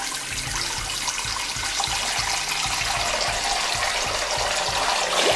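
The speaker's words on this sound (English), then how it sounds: "So what I'm going to do is just run the tap," A tap runs water into a sink, a steady close splashing stream that grows slightly fuller toward the end, heard alone without talk.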